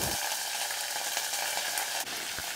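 Mustard seeds, urad dal and curry leaves sizzle steadily in hot oil in a clay pot, a close, continuous crackling hiss with brief louder spits near the start and end.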